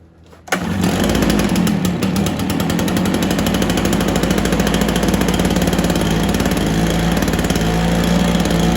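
A Stihl BR430 backpack blower's small two-stroke engine fires up abruptly and runs steadily, a loud, rattling drone close by with no pauses.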